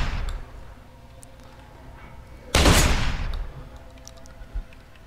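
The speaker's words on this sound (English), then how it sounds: "You made me waste 2 bullets." A gun fires in the video game Deus Ex: Human Revolution, a loud burst of shots sounding close, then fading into quieter game ambience with faint clicks.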